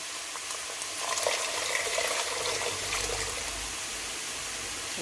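Saffron water poured into a pot of carrot rice, a soft hissing trickle and sizzle rising briefly in the middle, faint and close, with no talking.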